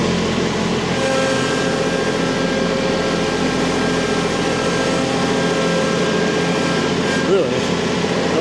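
A Kubota tractor engine runs while plowing, giving a steady, close, continuous droning hum with a slight bump near the end.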